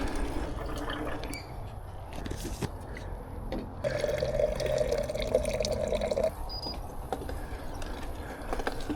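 Water runs from a tap at an outdoor spot beside Brisbane wetlands, a moderate steady trickle and splash with a clear filling tone in the middle, over faint background ambience and scattered clicks.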